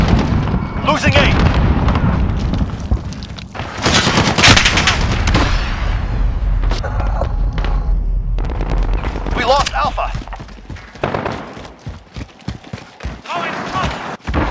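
A grenade explosion and gunfire from the Call of Duty Modern Warfare video game: loud, dense automatic fire, heavy blasts and battlefield rumble continue without pause, with voices calling out over the chaos.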